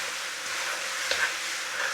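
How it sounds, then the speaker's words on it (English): Chicken with ginger and sugar fries in a pan as the sugar caramelizes, giving a soft, steady sizzle heard close and alone, with no talk. "You want to continue frying this for about 5 minutes just to lock in the sugar and all the flavours"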